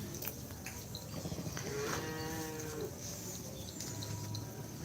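A single cow moos at a distance over steady outdoor background noise and rustling.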